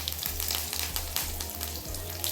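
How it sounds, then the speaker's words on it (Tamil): Mustard seeds, cumin and curry leaves sizzle and crackle steadily in hot oil, a close, dense frying hiss with faint periodic stirring. "எண்ணெய் சூடாயிடுச்சு. கடுகு சீரகமும் இதில் சேர்த்துக்கிறோம். இந்த கருவேப்பிலை சேர்த்துக்கிறோம்."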